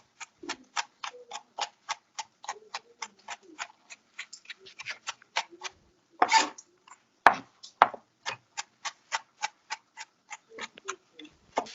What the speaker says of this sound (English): And then I'm going to chop a little bit of shallots here.